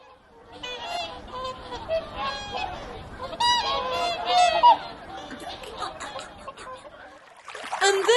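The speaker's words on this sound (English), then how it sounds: "he had to face the pecking swans" Swans honk and squawk in a storybook sound effect, repeated nasal calls scattered over a soft watery background, growing louder near the end.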